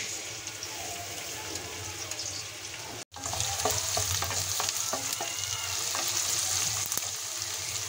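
Onions fry in a pan for chicken biryani, giving a constant close sizzle with scraping stirs and small clicks of utensil on metal, broken by one brief dropout before the frying noise resumes.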